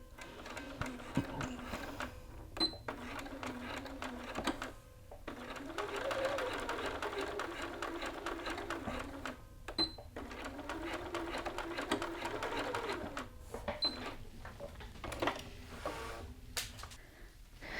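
A sewing machine stitches the lapel of an Augusta garment in several bursts of steady, rapid whirring separated by short pauses, including a back tack, with soft talk in between.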